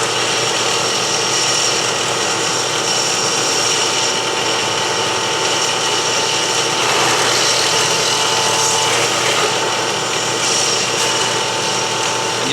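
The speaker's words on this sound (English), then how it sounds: "I can easily now put them on the drill and drill them" An electric drill whines steadily and loudly, grinding through robot parts with no pauses.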